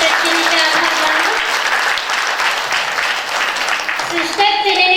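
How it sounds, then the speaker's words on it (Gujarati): An audience at a women's day community gathering claps loudly and continuously, dense applause filling the room while a voice speaks over a sound system near the start and end. "સિસ્ટર ચીનીને આપણે જોરદાર તાળી પાડીને સિસ્ટર ચીનીને આભાર માનવો."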